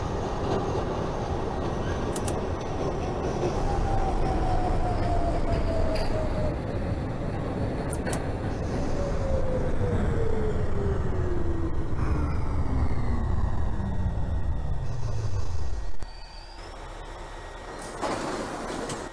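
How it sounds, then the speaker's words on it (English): A New York number 1 subway train (R62A) in the OpenBVE train simulator rumbles steadily, its motor pitch gliding downward as it slows, then a brief quieter stretch before a door-like hiss and clatter. "This is a South Ferry bound number 1 train."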